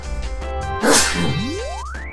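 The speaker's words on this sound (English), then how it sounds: "I'm gonna sneeze." A single loud, sharp sneeze bursts out close by, followed by a rising whistle-like tone over a steady low hum.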